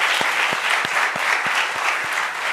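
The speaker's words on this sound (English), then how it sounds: "A big round of applause for all the panelists." Conference audience applauding panelists at an agribusiness event, a steady, fairly loud wash of clapping from a sizeable crowd, sustained throughout with no talk.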